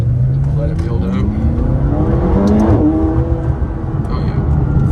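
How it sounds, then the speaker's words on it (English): A 2017 McLaren 570GT pulls hard in first gear, its engine note climbing steeply and loudly from inside the cabin, with a voice talking over the acceleration. "We'll give it one solid first gear pull before we park her."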